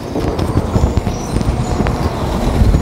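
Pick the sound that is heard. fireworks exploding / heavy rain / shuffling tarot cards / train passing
train passing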